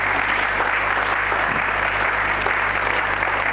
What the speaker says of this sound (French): je crois que nous pouvons applaudir de tout cœur les gagnantes de cette semaine